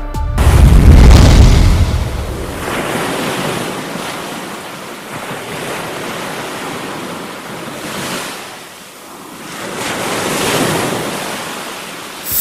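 Sea waves crash and wash onto the casuarina-lined shore of Guhagar beach, a loud, continuous surf roar that swells and ebbs in long surges, with wind buffeting the microphone.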